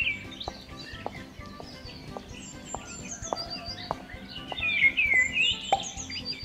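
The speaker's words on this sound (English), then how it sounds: "Look, it's beautiful birds." Birds chirp on a nature walk, bright tweets and a trilling call rising toward the end over a backdrop of soft, regular plopping taps.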